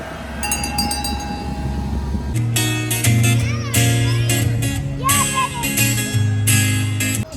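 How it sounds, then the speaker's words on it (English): A small farm train, Engine 13, chugs along with a steady low engine drone and rattling cars at Southern Hill Farms in Clermont, Florida, while children's voices and chatter rise around it. "they got the Southern Hills Farm train running for the kiddies"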